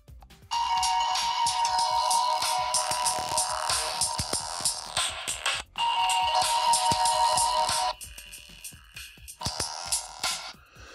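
A MAZE Comet 4G smartphone plays a bright electronic ringtone, a chiming melody in two loud bursts, with a brief gap and a quieter fragment at the end.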